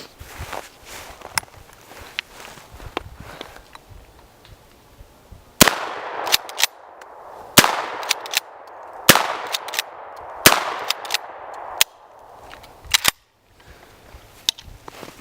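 A Winchester Model 12 shotgun is fired at steel targets outdoors, giving about eight loud, sharp blasts spaced a second or so apart, each with a brief ringing tail, after some quieter handling sounds and footsteps.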